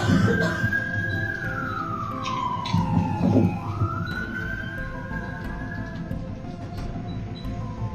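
A police siren wails, its pitch sweeping down and then rising again, loud and fairly close over a constant rumble of traffic.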